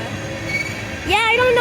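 A CSX tanker freight train rolls slowly past, a steady low rumble with metallic wheel squeal rising into loud, high tones near the end.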